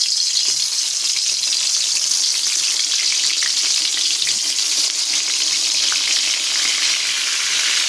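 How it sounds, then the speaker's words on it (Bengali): Turmeric-coated eggplant slices frying in hot oil give off a steady, bright sizzle and crackle that stays even throughout, with no voices. "এইভাবে এক পিট করে ভাজতে হবে"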